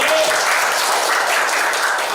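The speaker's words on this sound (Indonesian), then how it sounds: "Tepuk tangan buat kita semua" Dense applause from a crowd, many hands clapping steadily and loudly for about two seconds.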